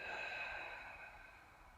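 A slow, airy exhale drawn out during yoga breathing, steady at first and then gradually fading, close and alone.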